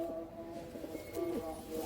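A pigeon coos softly and steadily, its low murmuring calls repeating close by against a quiet background, with no talking.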